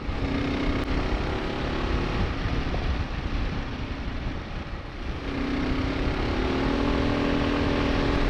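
A motorcycle ridden fast at about 50 mph on a gravel road, its engine droning steadily with wind rush and a pitch rise near the end as the rear tire breaks loose.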